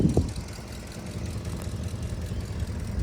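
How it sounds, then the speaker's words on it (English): A 1962 Buick Wildcat two-door hardtop with a 445 V8 idling with a slight exhaust leak, a low, even rumble heard close, after a brief louder knock at the start. "The only thing I can hear in this car, maybe just a slight exhaust leak."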